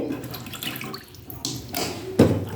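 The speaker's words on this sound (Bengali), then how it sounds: "আচ্ছা, মাছটাকে মা কেটে দিয়েছিল, আমি ভালো করে ধুয়ে নিলাম।" Cut pieces of rui fish are rinsed with water in a kitchen, making a close, uneven splashing and running-water wash with a louder slosh near the end.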